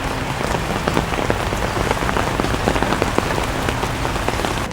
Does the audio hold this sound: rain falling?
yes